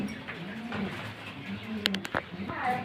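Pigeons coo low and repeatedly while feeding, close by, with a few sharp clicks and taps near the end and a human voice faintly in the background.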